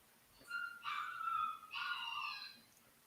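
A dog whimpers in two drawn-out, high-pitched yipping bursts, fairly close, with brief quiet gaps and no talking.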